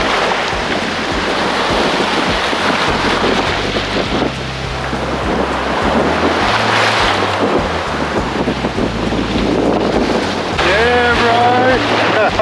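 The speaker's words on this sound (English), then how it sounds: "Few little wind waves out there in the brown tea water" Small wind waves wash steadily across brown, tea-coloured water at Burrum Point, with constant wind rumble buffeting the microphone throughout and a brief voice-like sound near the end.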